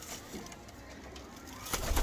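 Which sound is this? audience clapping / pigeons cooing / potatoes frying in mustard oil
pigeons cooing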